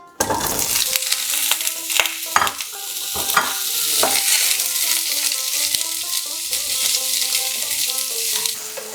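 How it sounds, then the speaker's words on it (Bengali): Sliced raw green mango with chopped ginger sautéing in a pan over medium-low flame, a loud continuous sizzle with scraping stir strokes, over faint tonal background music. "আমটা আমি 2 মিনিট মিডিয়াম টু লো ফ্লেমে কষে নেব।"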